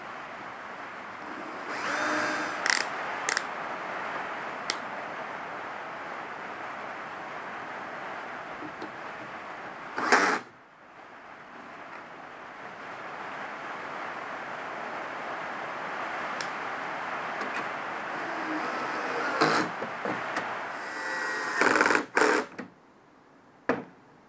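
Pre-drilling holes and driving screws into wood for a folding stool, a small drill whirring in sustained runs with brief sharp bursts and pauses, close and moderately loud.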